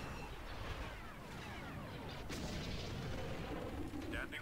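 Ship guns firing in the space-battle strategy game Star Wars Empire at War, a dense, steady wash of rumbling, crackling fire with bright laser streaks, mid-loud and continuous.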